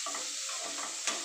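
Food sizzles and is stirred in a pan while fish fried rice is cooked, a short burst of steady frying hiss.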